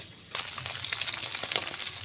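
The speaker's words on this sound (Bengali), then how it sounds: "এবার আমরা মাছ ভাজাটা দেখি কি হলো" Steady, crackling sizzle of rait fish frying in hot oil, loud and continuous after a quiet start.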